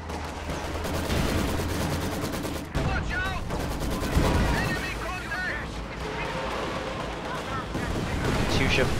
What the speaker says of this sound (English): Katyusha firing.